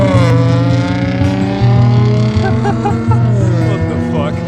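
A Dodge, a small fast car with blacked-out windows, accelerates nearby with a loud, rising engine note that steps through gear changes, its pitch climbing in repeated surges.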